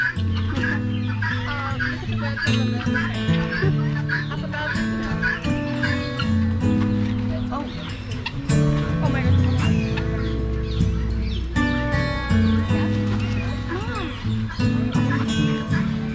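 Chickens cluck and a rooster crows amid a busy farmyard clamor, with overlapping animal calls and some voices mixed in throughout.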